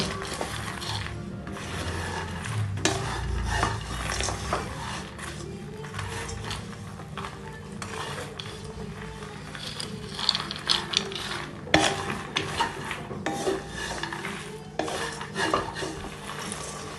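Roasted chickpeas and grains dry-roasting in a pan for homemade baby cereal, giving a steady scraping, rattling clatter of hard grains and utensil against metal that runs on throughout.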